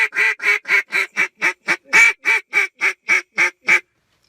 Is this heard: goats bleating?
no